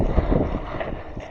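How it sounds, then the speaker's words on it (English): Wind buffeting a boat out on the water during winter steelhead fishing, a rough low rumble of gusts battering the microphone, loud and close, with no voices. "Just this wind is making things really difficult."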